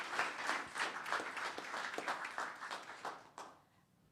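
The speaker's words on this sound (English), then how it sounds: "one more round of applause for Robert, please." A second round of audience applause at a Los Gatos town council meeting, with dense, even clapping from many people that holds for several seconds before tapering off.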